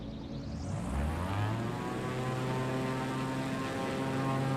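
Propeller plane engine in Microsoft Flight Simulator 2020 taking off from a runway, a steady loud drone whose pitch climbs sharply in the first second and a half, then holds as a strong, even hum.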